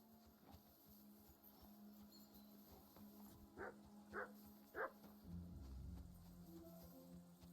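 Dog Pelzer in the video game Kingdom Come: Deliverance 2 gives three short, moderately loud barks spaced about half a second apart, set against steady in-game ambience and a low rumble.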